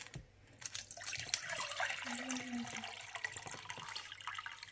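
Water pours and splashes into a container, a short gurgling run of liquid heard close up, fairly quiet, with no talking.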